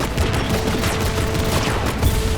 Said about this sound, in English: heavy metal machine gun that fires according to its own rhythm